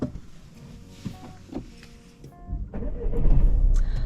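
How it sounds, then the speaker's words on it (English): Engine of a learner's car turning over and settling into a steady idle near the end, after a stretch of quiet cabin noise with faint speech, during a driving lesson mock test. "you can start the engine"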